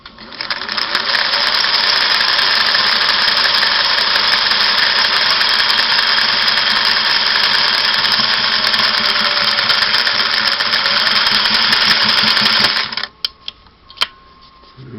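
A Singer Model 503A sewing machine stitches satin in one long, loud, steady whirring run of about thirteen seconds, then stops abruptly, leaving a few faint clicks and handling noises.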